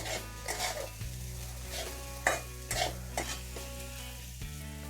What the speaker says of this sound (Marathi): आता इथे आपला कांदा पण चांगला परतलेला आहे मसाल्यामध्ये